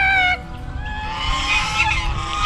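Geese honk loudly and repeatedly in a raucous chorus, with a steady outdoor rumble underneath.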